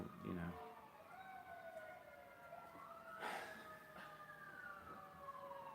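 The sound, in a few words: sirens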